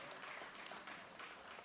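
Faint, steady applause from a crowd at an International Women's Day celebration, a dense wash of clapping with no voices.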